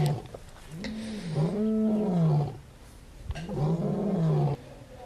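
Two long, deep lion roars, each a rising and falling groaning bellow several seconds long, loud and close with a short pause between them.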